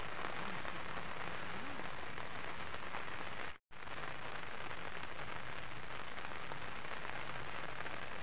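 Steady heavy rain pouring on a surface, a dense even hiss and patter throughout, broken by one brief cut to silence partway through.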